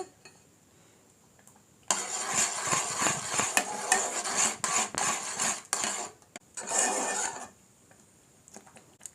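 Coconut milk mixed with corn flour is stirred in a pan, a spoon scraping and clinking steadily against the metal for several seconds, then briefly again after a pause, close and fairly loud with no talking.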